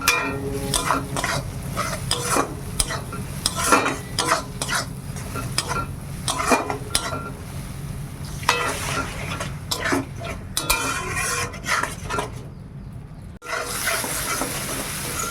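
Spices fry in a pan for a long stretch, with busy stirring, scraping and clinks of a metal spoon against the pan over a steady sizzle, close by, with a brief pause near the end.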